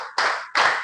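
Two sharp, loud claps from a group of people in a classroom ice-breaking activity, sounding together in unison with a short pause between them and nothing else around.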